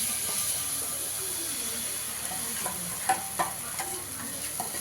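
Paneer pieces frying in oil in a pan for a moong dal curry give a steady, close sizzle and hiss, with a few light scrapes and clinks from stirring.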